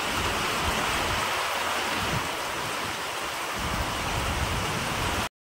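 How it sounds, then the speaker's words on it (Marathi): Heavy rain pours in a dense, unbroken hiss and patter, steady and fairly loud, before cutting off abruptly near the end. "काही क्षणामध्ये पावसाची जोर आहे बघा."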